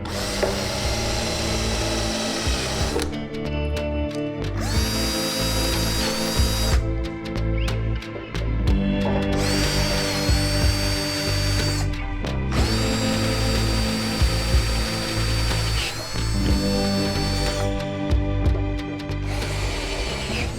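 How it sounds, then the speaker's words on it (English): Power drill spinning a bit to scour rust from a hole in a C10 car body panel: loud, continuous high whine with rising and falling pitch and brief pauses as the trigger eases. "I'm using a drill bit to try and clean the rust in the opening"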